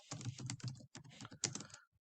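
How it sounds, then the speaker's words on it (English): Keys on a computer keyboard are tapped in quick, uneven bursts as an answer is typed into a text box, with a few brief pauses between runs of keystrokes, close and fairly quiet. "typing in my answer in this text box"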